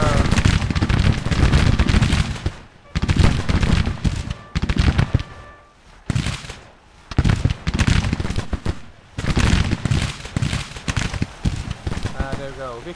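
Gunfire and cannon fire in a Union battle game: dense volleys of crackling shots and heavy booms in bursts, separated by short lulls, with voices shouting among the firing.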